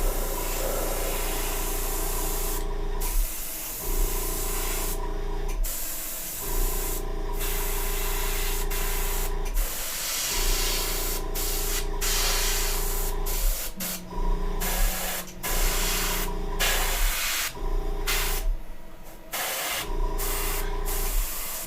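Spray painting a Nebulon-B hospital ship scale model, with loud hissing bursts of the spray can broken by short pauses, close and without speech.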